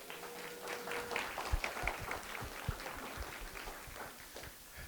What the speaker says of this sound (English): And can we give a round of applause for our amazing moderator, the Media Prince?